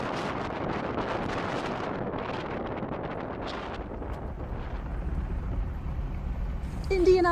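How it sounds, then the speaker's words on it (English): Steady breezy wind buffets the microphone outdoors on a morning in the Southern Alps of New Zealand, a continuous low rumble and rush running throughout at fairly constant level, with a faint brief tone near the end. "Beautiful morning, but it's very breezy."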